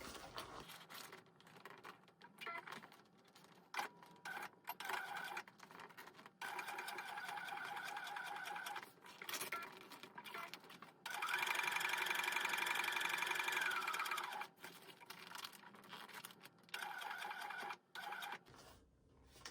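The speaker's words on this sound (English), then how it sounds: "I'm just going to do a little back stitch there" A home sewing machine runs in stop-start bursts while back stitching and then top stitching a waist pack, a close, steady mechanical whir with brief pauses and one longer, faster run.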